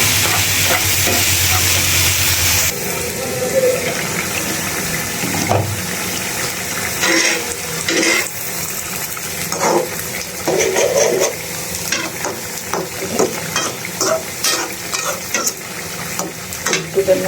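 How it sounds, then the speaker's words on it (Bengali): Potatoes frying in a pan, with a steady sizzle broken by frequent stirring scrapes and clatters in irregular bursts, close and fairly loud throughout, with no talking. "আলু ভাজি দেখো"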